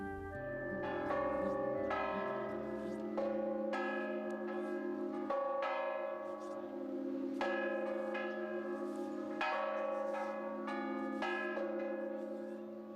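Four bells ring in the bell tower outside the cathedral in Brasília, pealing and overlapping in a steady, resonant pattern for several seconds, loud and sustained, while a voice speaks at times underneath.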